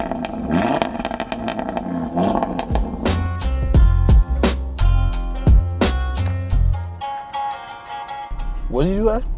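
A car engine revs in bursts on a street in the Bronx, NYC, with sharp rising roars and clattering pops mixed with voices talking over it.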